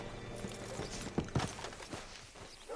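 Horse hooves clip-clop in a short, uneven run of soft thuds with some tack rattle, heard fairly close and alone in the Red Dead Redemption 2 game world.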